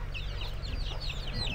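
Chickens cluck softly nearby, a steady run of short overlapping calls over a low background rumble.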